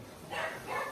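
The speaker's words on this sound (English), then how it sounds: "I apologize for the dogs barking." A dog gives two quick, muffled barks in the background of a sewing session, faint and short.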